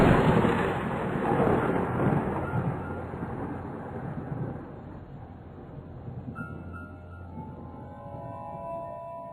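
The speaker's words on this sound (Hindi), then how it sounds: "बिजलियां जोर जोर से कड़क रही थी" Thunder rumbles loud and broad at night in a spooky village tale, a long rolling crack that swells early and slowly fades into a steady low roar as faint tonal sounds creep in near the end.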